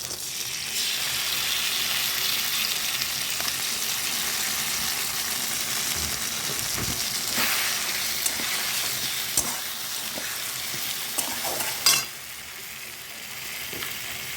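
Chili and onion paste with ginger-garlic paste frying in oil alongside fried eggplant, a steady loud sizzle throughout with occasional stirring clinks, fading slightly near the end.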